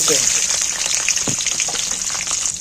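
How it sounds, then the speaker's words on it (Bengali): Bay leaves, whole cumin, dried chillies and garlic cloves fry in hot oil, making a loud, continuous hissing sizzle close by, with occasional soft stirring knocks and a voice heard briefly. "নাড়াচাড়া করে হালকা করে একটু ভাজা আমার হয়ে গেছে"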